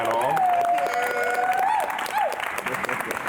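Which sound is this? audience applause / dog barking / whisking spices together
audience applause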